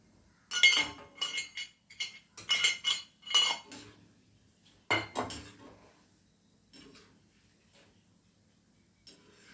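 Crispy fried ribbon pakoda, made with coriander and curry leaves, rattles and clinks against a metal ladle in quick clustered bursts, then a few sparser taps trail off into quiet.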